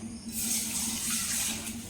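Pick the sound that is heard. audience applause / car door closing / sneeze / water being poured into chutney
water being poured into chutney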